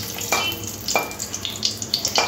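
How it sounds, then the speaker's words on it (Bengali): Whole spices crackle and sizzle in hot oil for tempering: a bay leaf, a chilli and whole cardamom. A continuous close frying hiss with sharp pops and stirring scrapes runs under no talk. "ফোড়নটা একটু ভেজে নিতে হবে।"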